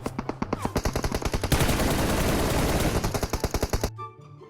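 Rapid automatic gunfire from a PUBG Mobile match: dense bursts of loud, close shots in a fast steady rhythm for about four seconds, briefly merging into a continuous roar before stopping abruptly.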